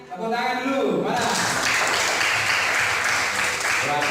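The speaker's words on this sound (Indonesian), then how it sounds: "Tepuk tangan buat hari ini." Classroom full of students breaking into loud, sustained applause after a lesson, dense clapping starting abruptly about a second in and carrying on to the end, with a teacher's voice briefly heard at the start.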